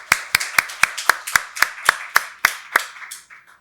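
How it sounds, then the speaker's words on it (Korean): A church congregation at a Sunday worship service claps in unison, about eleven crisp, evenly spaced claps in a steady rhythm that soften at the end. "박수로 하나님께 영광 돌리겠습니다."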